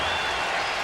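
Cubs fans at a Cubs at Reds baseball game cheering and applauding an RBI double, a loud, dense burst of crowd noise filling the whole moment.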